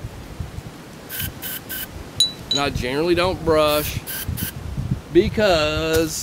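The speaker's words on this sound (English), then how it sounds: "Now then, we'll spray down the barrel." Short bursts of spray cleaner hitting a Glock 19 pistol barrel, a few quick hissing puffs near the mic, while someone talks over and between them.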